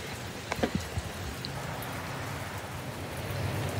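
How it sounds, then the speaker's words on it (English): Steady rain falls on a grey, wet day, a constant soft hiss with a few louder drips and taps near the start, no voices. "it's really rainy and wet"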